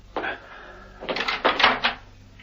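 In a radio drama, a door is unlatched and swung open: a brief click, then a cluster of close rattling latch and handle noises.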